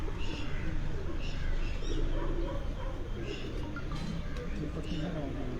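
Pigeons of a rare fancy breed coo softly on a rooftop loft, low steady murmuring throughout, with someone talking over them.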